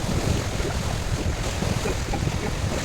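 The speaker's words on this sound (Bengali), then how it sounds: "তোমাদেরকে দেখাবো যে ঢেউগুলো কেমন আসছে" Sea waves roll in at Mousuni Island, a close, churning rush of surf mixed with gusty wind buffeting the microphone, continuous and fairly loud.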